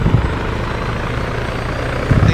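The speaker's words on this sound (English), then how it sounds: "I don't even see the helicopter. He's right above us." A video game helicopter drones steadily overhead, a loud, continuous rotor wash holding throughout, with a slight thump rising at the end.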